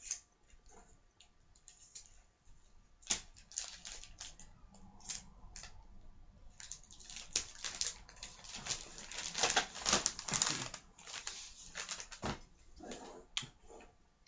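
Scissors snip and slice through Christmas wrapping paper up close, quiet at first, then a run of crisp cuts, rustles and sharp clicks that grows denser and louder midway before easing off.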